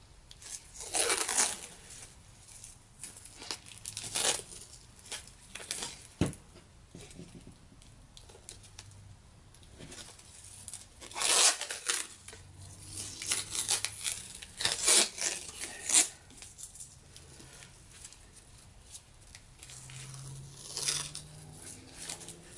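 Packing tape is pulled and torn in several loud ripping bursts separated by quiet pauses, close and dry, with faint crinkling in between.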